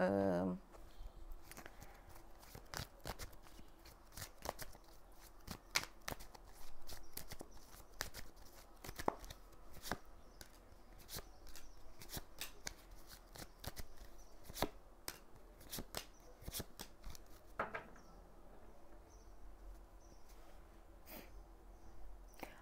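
Tarot cards are shuffled and drawn, giving faint, quick papery flicks and taps in irregular bursts, close and quiet, with soft breathing and brief speech nearby.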